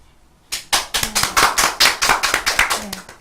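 An audience at a lecture event applauds the lecturers: a small crowd's hand claps begin suddenly and go on in a brisk, uneven patter, fairly close and clear.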